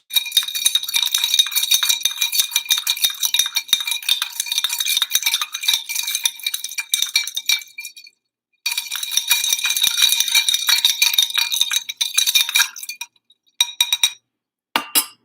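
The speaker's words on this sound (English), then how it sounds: "Now you will use this spoon to help mix it." A spoon stirs a margarita in a glass, producing rapid, bright clinking and scraping against the glass. The sound runs continuously for long stretches, pauses briefly, then resumes before tapering into a few final taps.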